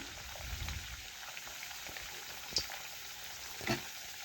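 A hand-rolled paratha sizzles in hot oil in a kadai, giving a steady soft hiss with two brief sharp crackles partway through and no talk.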